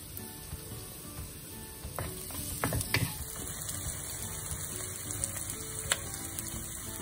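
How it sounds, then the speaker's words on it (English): Chopped onion sautéing in a tablespoon or two of hot oil in a pan, a soft continuous sizzle with a few spatula scrapes and clicks in the middle, no talking. "Sauteing the onion for 5 minutes."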